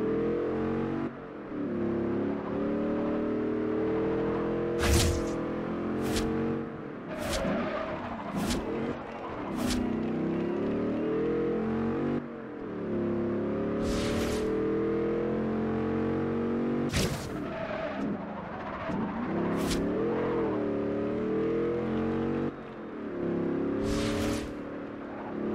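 Dodge Charger engine roaring in a Forza Horizon 2 race against a Maserati Ghibli, a loud continuous revving drone with repeated gear-shift surges and sharp bursts, with no talk over it.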